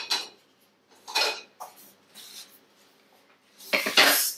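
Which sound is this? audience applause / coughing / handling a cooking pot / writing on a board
handling a cooking pot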